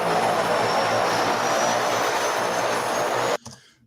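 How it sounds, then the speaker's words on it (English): A jet aircraft passing overhead makes a loud, steady, broad roar that holds for over three seconds, then cuts off abruptly, leaving only faint residual noise. "that was literally a jet overhead"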